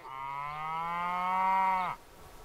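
A single cow lets out one long, steady, close moo lasting nearly two seconds on a calm ranch day in wolf country, ending abruptly into quiet.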